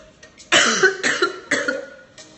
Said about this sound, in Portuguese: Tô chorando aqui, ó. De tanto tossir.